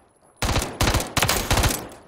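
A CZ Scorpion EVO 3 S1 carbine firing in Call of Duty Modern Warfare: after a brief quiet, four loud, sharp bursts of rapid automatic fire follow in quick succession, with no talking.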